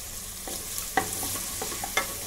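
Finely chopped capsicum and cabbage stir-fry in a pan for manchow soup, giving a soft steady sizzle broken by a few sharp scrapes and clacks of stirring, close up, with no talking.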